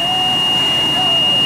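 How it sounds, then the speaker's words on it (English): A 2008 Collins Bantam 14-passenger bus's warning buzzer drones loudly and steadily at one high pitch, close by, with a faint background hum beneath it. "Shut that buzzer down."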